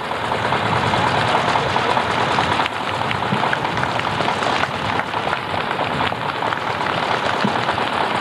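An old restored tractor idling at a tractor rally in Brørup, Denmark, its steady dense engine chug running loud and unbroken, mixed with a rain-like hiss of outdoor noise.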